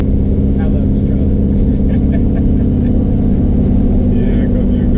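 Truck engine idling and rumbling loudly and steadily at close range during burnouts, a constant low drone with faint higher tones drifting over it.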